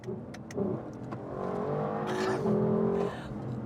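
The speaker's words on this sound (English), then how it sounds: "Naturally aspirated 5-liter V8. One of the most beautiful engines in the world." A 2023 Lexus LC500's naturally aspirated 5-liter V8 revs up in a rising, sustained roar, close and clear, peaking and holding before easing off.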